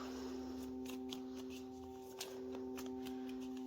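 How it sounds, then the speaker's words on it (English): Tarot cards are shuffled by hand, giving soft, quick papery riffles and flicks in uneven bursts over a steady low hum, fairly quiet, with one sharper snap near the end. "I'm going to give it one more shuffle."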